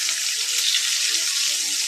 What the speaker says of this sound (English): a little sizzling bacon